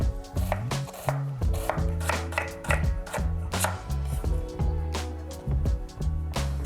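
A knife chops red cabbage on a board for a salmon Buddha bowl, its quick repeated cuts sharp and close over steady background music.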